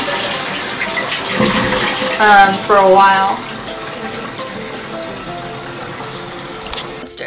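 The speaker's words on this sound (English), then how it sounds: "if you lift up, the sink starts running" Water runs from the small sink on top of a Japanese toilet tank, a steady close hiss and splash lasting the whole stretch, with a brief gurgling swell partway through and a voice speaking briefly.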